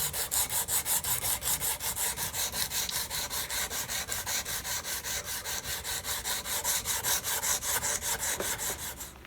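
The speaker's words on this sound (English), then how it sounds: "we've sanded with 100 grit here" Rhythmic back-and-forth rasping of 100 grit sandpaper on a wooden banjo neck, steady strokes about twice a second, close and moderately quiet with no talking.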